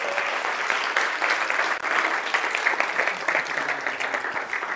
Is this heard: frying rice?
no